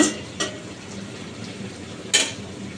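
Fish cooking in a pan is stirred a couple of times. Two short, close scraping strokes stand out over a quiet, steady sizzle.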